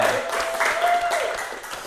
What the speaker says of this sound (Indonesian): untuk hari ini kita tepuk tangan terlebih dahulu